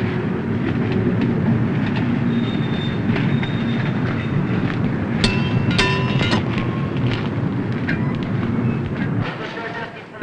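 Railway wagons roll through a shunting yard, a steady broadband rumble with faint metallic squeals and a cluster of sharp clanks midway, continuous and fairly close throughout.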